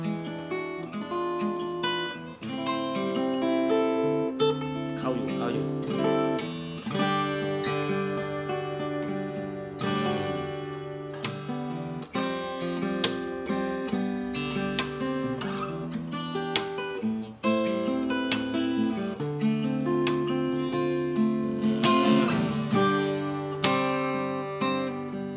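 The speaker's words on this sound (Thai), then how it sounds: "ทีนี้เดี๋ยวลองไปฟังแบบซิงเกิลสไตล์บ้างสำหรับ OM ที่น้องโอถือนะเป็น i710" A Gopherwood i710 all-solid-wood OM acoustic guitar plays a flowing melody of picked single notes with some ringing chords, bright and close, with no talking.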